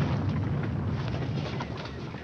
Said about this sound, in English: The cannon of Chateau d'If.